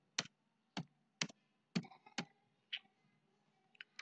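Sharp, distinct key presses on a computer keyboard during a shift-alt-down-arrow shortcut, about eight close clicks at irregular intervals with silence between.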